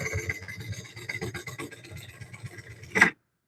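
A woodturning scraper works the inside of a walnut bowl spinning on a lathe, giving a soft, rhythmic rasping that pulses steadily and ends with a brief sharper scrape before stopping.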